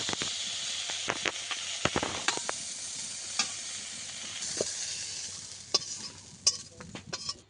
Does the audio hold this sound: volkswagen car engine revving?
no